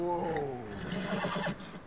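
A horse in the video game Red Dead Redemption 2 whinnies in a short, descending neigh, fairly close and clear, with a bit of snorting at the end.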